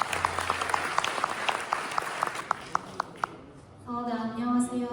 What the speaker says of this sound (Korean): 다시 한번 축하의 박수 부탁드리도록 하겠습니다.